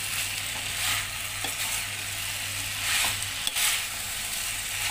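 Potatoes for chilli potato fry in a pan and get stirred, a steady sizzle broken by a few scraping stir strokes and clinks, close and moderately quiet, with no talk.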